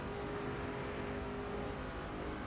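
A truck engine drones steadily in a NASCAR 09 racing video game, a faint, continuous whirring roar with no break throughout.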